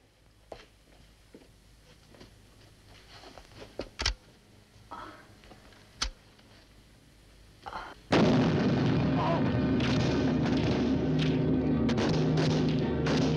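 After scattered thuds and knocks, loud dense orchestral music suddenly bursts in and plays on at full volume.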